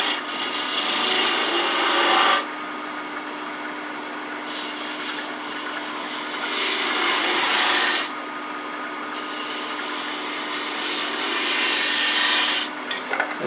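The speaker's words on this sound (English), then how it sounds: "Use my detail gouge to make it a little bit easier to" A detail gouge cuts into a wooden globe ornament spinning on a lathe, giving a close, steady scraping hiss that swells in several longer passes over a constant motor hum.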